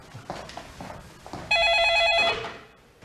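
A telephone rings in a North Korean drama scene, a steady warbling electronic ring lasting about a second after some quiet talk, then someone speaks as the ringing stops.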